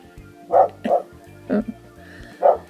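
A dog barks indoors four times in an irregular rhythm, with short sharp yips at moderate distance over a low background hum.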